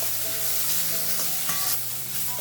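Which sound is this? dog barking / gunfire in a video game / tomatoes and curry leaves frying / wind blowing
tomatoes and curry leaves frying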